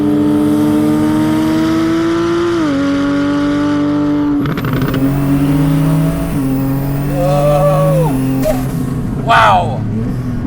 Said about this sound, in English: We've got the whistle, the noise, intake, exhaust, explosions, backfires.